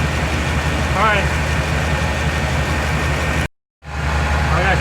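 A Chevy Tahoe 5.7 liter V8 idles with a steady low rumble close by, broken by a brief cut to silence before the running resumes, with a person talking over it.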